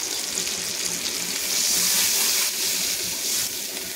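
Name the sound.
water poured into mustard paste for fish curry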